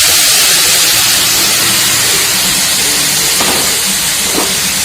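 Sliced green tomatoes fry with green chilies in a pan, making a loud, close, continuous hiss and sizzle that stays steady for the whole stretch with no voice over it.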